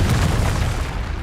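Confringo fire spell blasting in the video game Hogwarts Legacy, a dense low booming burst that rolls on through the whole short moment without any talk.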